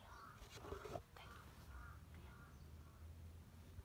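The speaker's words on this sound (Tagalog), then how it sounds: "Wala, may uwak bay." A crow caws a few times at a distance, faint against a quiet outdoor background.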